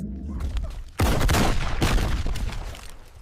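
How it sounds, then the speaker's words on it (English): A Predator's plasma cannon fires a warning shot: a sudden loud blast followed by crackling bursts and a decaying rumble, with faint talk before it. "That was a warning shot."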